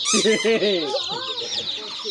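A chick gives a run of sharp, close clucks and peeps over about two seconds, with people talking nearby.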